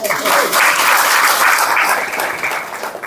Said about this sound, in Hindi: चलो फिर तो खुद खातरे ताली बजा दो।